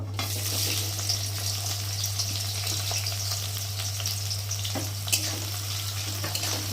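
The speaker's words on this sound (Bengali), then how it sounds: "আর এখন কেটে রাখা পেঁয়াজগুলো দিয়ে ভালো করে ভেজে নেব" Chopped onions fry in hot oil for biryani, a steady close sizzle with occasional sputters and stirring clicks over a low constant hum, with no speech.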